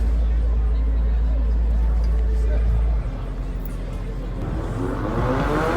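Nissan 350Z drag racing an EcoBoost Mustang, a loud, continuous engine roar with deep rumble, rising in pitch as the cars accelerate near the end, mixed with crowd babble and talk.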